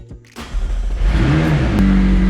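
A McLaren 600LT engine fires and revs close by, a brief sharp rise into a loud, rising mechanical roar that holds steady for the rest of the moment, with no voices.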